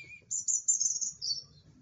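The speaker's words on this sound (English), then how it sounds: "Oh, it's a robin, look." A robin singing a brief, high, thin warble heard alone at close to moderate distance, fairly faint, with no talking during the song.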